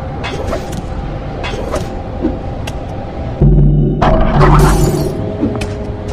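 A light shattered in the stealth game Mark of the Ninja, a sudden loud crash with bright tinkling debris partway through, over a steady ambient hum.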